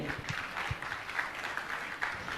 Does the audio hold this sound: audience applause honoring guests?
yes